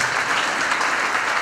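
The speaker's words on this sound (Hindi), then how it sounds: "मैं चाहता हूँ एक बार इनके लिए जोर से तालियां" Crowd applause at a film festival award show in Rajasthan, a brief, steady, dense patter of many people clapping at even volume with no talk over it.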